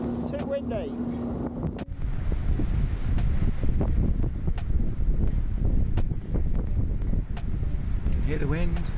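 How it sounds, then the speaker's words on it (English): Strong wind buffets the microphone in a continuous, loud broadband roar at an exposed spot near a ferry, with a few short bursts of voices and sharp gusts. "Hear the wind."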